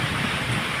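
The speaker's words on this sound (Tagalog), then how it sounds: "At ang ulan po ay wala na rin tigil." Heavy rain from Typhoon Pepito pouring steadily in Palayan City, Nueva Ecija, a dense, even hiss of falling water with a low rumble underneath.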